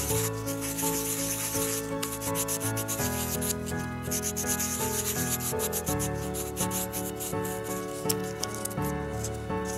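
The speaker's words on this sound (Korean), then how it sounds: "종이사포를 말아서 안쪽도 같이 또 반복적으로 정리를 해주셔야 돼요" Rolled sandpaper rubs steadily against a miniature bowl in a continuous close scratching rhythm with no voices.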